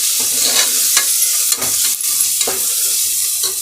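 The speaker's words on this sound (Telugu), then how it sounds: "మిరియాల పొడి, ఇవన్నీ కొంచెం ఫ్రై చేసుకోవాలి ఆయిల్లోనే." Ground black pepper, coriander powder and other spices fry in oil for a mushroom biryani, giving a steady close sizzle broken by scraping strokes of a stirring spoon.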